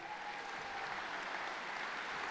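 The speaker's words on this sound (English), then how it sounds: "round of applause for Doc." A crowd at a football club awards night gives a round of applause for a departing coach, a steady, even wash of clapping from many hands heard at moderate distance.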